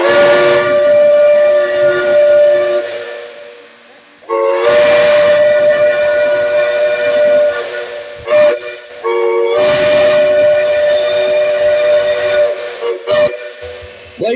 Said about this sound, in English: Chime whistle. Jameson's about to find out what it sounds like for the first time.